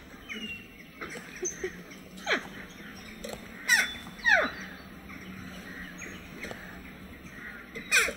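Jackdaws give short, sharp, rising calls, several spaced single notes, fairly near and distinct, over a steady background hiss.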